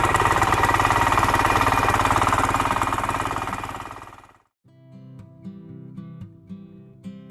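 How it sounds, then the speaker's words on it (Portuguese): A motorized rotary tiller's engine roars loudly and steadily as its blades churn soil, then cuts off abruptly, leaving quieter, unrelated tonal sounds. "Eles só precisam ligar o motor e empurrar a máquina para a área de terra à frente."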